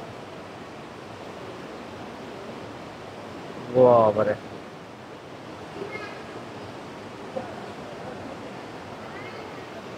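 Devi Falls water pours through a cave in Nepal, a steady hissing rush filling the space, broken by one short shout near the middle and faint voices later.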